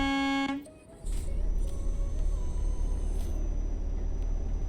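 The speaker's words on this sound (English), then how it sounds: "Honk my horn at him." A truck's air horn blares loud and tonal for half a second in Euro Truck Simulator 2, then cuts to the steady rumble of the engine and road noise.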